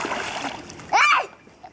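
A child splashes in a backyard swimming pool, a single brief burst of water splash standing out after a stretch of speech-like voice sounds.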